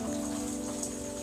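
Light drizzling rain gives a steady, soft, even patter that holds constant throughout, with faint sustained musical tones beneath it and no voices.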